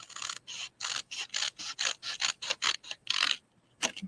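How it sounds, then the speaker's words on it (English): Scissors snipping through designer series paper while trimming a corner for a scrapbook layout, a quick series of crisp, close cuts in a steady rhythm, then a short pause and one last snip. "Trying to get my scissors on that corner."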